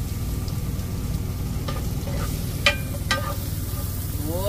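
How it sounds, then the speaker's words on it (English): Onions and garlic sautéing in a pan, a constant close frying hiss with stirring scrapes and a few sharp utensil clicks against the pan; no speech. "Boy, as always, onions and garlic in the pan."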